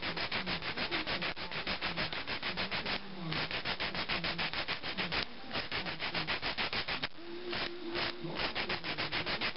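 An acrylic nail being filed square at the tip, with quick, even back-and-forth rasping strokes in a close, steady rhythm, broken only by a few short pauses, with no talking.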